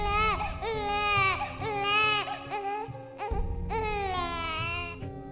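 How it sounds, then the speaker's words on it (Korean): A baby's wailing cry, used as a sound effect in a horror story set around a tent deep at night, rises and falls in long sobbing phrases with brief pauses between them, loud and close. "분명 굉장히 깊은 밤이었는데 텐트 주변에서 아기 우는 소리가 들리는 거예요."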